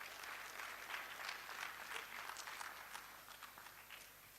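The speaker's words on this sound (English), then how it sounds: "the clapping is getting weaker" Audience clapping at the annual general and scientific meeting of the Ghana College of Physicians, a dense spread of hands that is quiet and distant throughout and gradually thins as it fades, with no voices.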